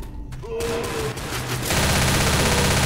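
Gunfire in the zombie shooter Left 4 Dead, a dense, loud burst of rapid shots that swells and holds steady for the last second or so, with players' voices mixed in over the clatter.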